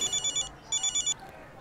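An electronic phone ringtone sounds in two short bursts of rapid repeated beeps, separated by a brief pause, fairly quiet against a faint background hiss.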